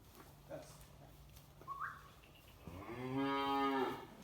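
A Simmental cow on a farm lets out one long, loud, drawn-out moo near the end, after a quieter stretch with faint background sounds and a brief whistle-like chirp.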